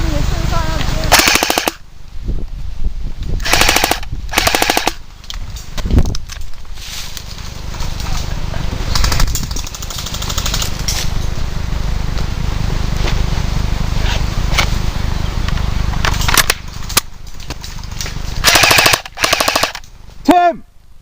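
Airsoft guns fire during an outdoor skirmish game, sharp bursts of rapid clacking shots and single pops loud and close at the start and end, with quieter distant firing and movement between.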